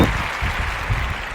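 Self-made clapping sound effect, a dense continuous patter of many claps blended together like crowd applause, fairly loud and steady throughout with no voices.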